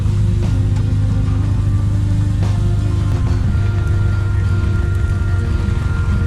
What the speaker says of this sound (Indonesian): Waduh, malah hujan lebat ya.